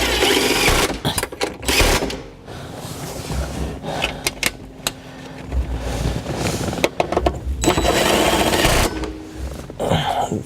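Tool loosening an airbag bolt in a 2009 Subaru Outback, heard as a close, loud buzzing whir that runs in bursts with short breaks, no talk.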